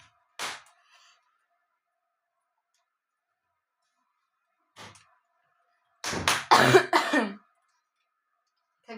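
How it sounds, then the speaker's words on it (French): A person coughs in short bursts: one brief cough near the start, a faint one a few seconds later, then a louder cluster of several harsh coughs, with silence between. "T'abuses à tousser toutes les 30 minutes."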